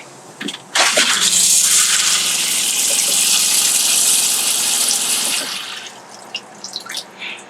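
Water pours steadily from the shower in a 2021 Pleasure Way OnTour 2.0 AWD camper van, a loud, even hiss that starts abruptly, holds for about four and a half seconds, then cuts off with a few faint drips after.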